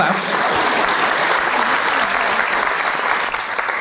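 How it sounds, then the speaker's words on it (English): A crowd at a school graduation ceremony claps steadily for a graduate, a dense, even wash of applause filling the room with no pause. "Yeah, you clap."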